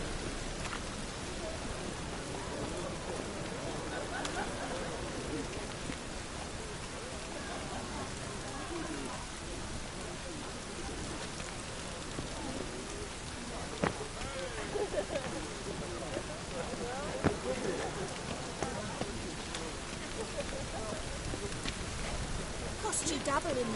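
Steady rain falls in The Witcher 3, a soft continuous patter at low level with a few faint sharper drops toward the end.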